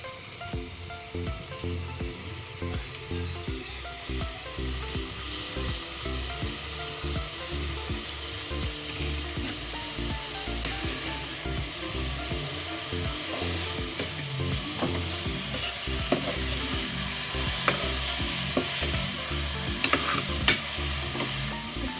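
Fresh spinach sizzles and fries in a pan in a home kitchen while a utensil stirs it steadily, giving continuous scraping and crackling with no one talking.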